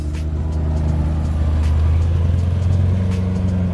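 A customized C8 Corvette fitted with nitrous pulls off nearby, its engine giving a loud, deep, steady rumble over a few seconds.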